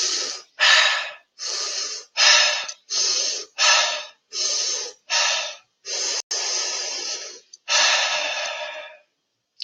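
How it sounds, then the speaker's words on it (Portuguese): A breathing exercise: a run of quick, forceful breaths through the mouth, close and loud, separated by brief silences, with a couple of longer, deeper breaths toward the end. "São 4 respirações rápidas e uma mais profunda."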